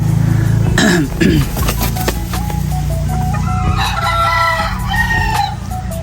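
A Gilmore Sweater gamefowl rooster crows loudly and close, its cock-a-doodle-doo rising over steady farmyard background noise, with other crowing and clucking fowl around it.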